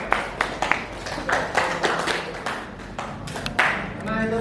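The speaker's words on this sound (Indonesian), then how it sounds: "kita kasih tepuk tangan dulu" A classroom of students claps together, with uneven, distinct hand claps over a few seconds mixed with some chatter, and a voice starts at the end.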